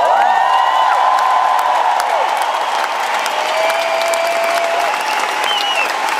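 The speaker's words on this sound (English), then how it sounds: "A round of applause for my band." A large concert crowd applauds and cheers for the band at a tour show in Hamburg: steady, loud clapping with whoops, while held musical tones from the band ring underneath.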